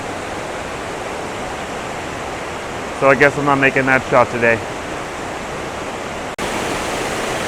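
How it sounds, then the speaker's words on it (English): Owharoa Falls in New Zealand running heavy after storms and recent rain, a steady broadband roar of falling water throughout, with someone speaking briefly over it midway. "we've got quite a bit of water coming over the falls"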